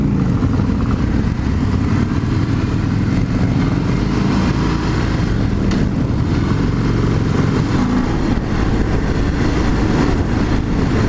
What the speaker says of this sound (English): A little blip with the throttle.